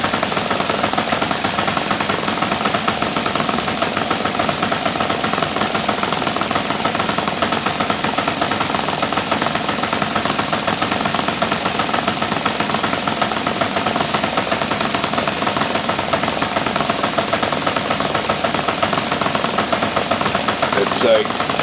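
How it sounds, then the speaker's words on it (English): An ENYA 36-4C-TN model diesel engine runs rich during break-in on a plastic mount, giving a loud, constant high buzzing drone with rattling vibration from start to finish. "that's why the engine's vibrating"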